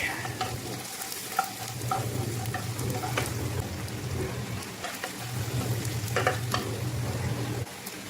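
Garlic sautés in a pan with ginger, a close, continuous sizzle under repeated stirring scrapes and small spattering ticks, with no voices.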